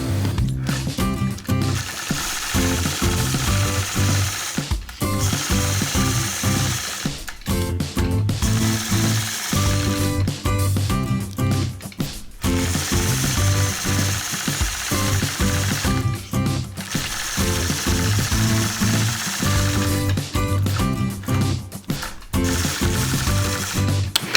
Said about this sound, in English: Whenever you're doing any machine quilting with rulers, make sure you have a ruler foot on your machine and also a ruler base.